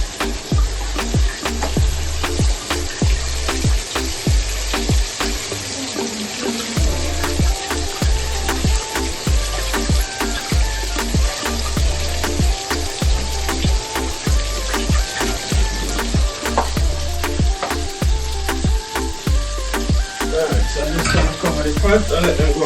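Chicken wings frying in hot oil for Jamaican-style fried BBQ wings, a steady dense sizzle with crackling pops running continuously and loud throughout, no voices.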